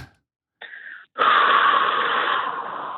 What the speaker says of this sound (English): And exhale, because I can feel it on you. Exhale out.